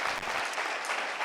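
An audience at a county 4-H dairy goat show applauds the senior exhibitors. Steady, dense clapping runs loud and unbroken through the short stretch.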